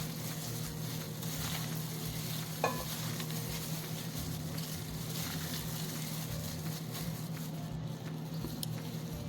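Bitter gourd salad is stirred in a bowl, with soft, steady mixing and wet patter kept up continuously at low volume, plus one brief clink partway through.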